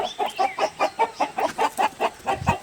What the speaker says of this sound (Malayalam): കോഴികളൊക്കെ എന്താ ഇങ്ങനെ ഒച്ച വെക്കുന്നത്?